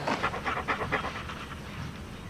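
Sled dogs pant rapidly in hot weather, a fast rhythmic breathing that is strongest in the first second and then settles into a steady, softer huffing.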